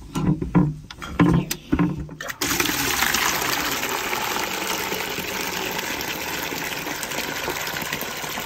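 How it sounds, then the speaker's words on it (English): Water from a turned-on tap or hose starts after a few brief knocks and handling sounds, then gushes in a steady, loud, continuous rush to the end. "we're gonna turn the water on."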